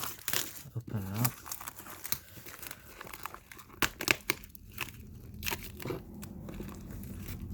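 Plastic packaging around a pair of Sony WH-CH510 wireless headphones being opened: close crinkling and tearing rustles in irregular bursts, with brief talk mixed in.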